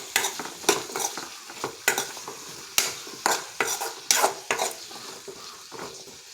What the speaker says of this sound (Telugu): ఇవన్నీ ఒకసారి బాగా కలుపుకుందాం.